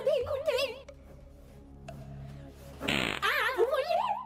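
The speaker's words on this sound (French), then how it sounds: "là c'est moi qui ai pété" A girl breaks wind, a brief low rumbling burst set among squeaky, warbling sounds, with a strong noisy burst near the end as playful voices chatter around it.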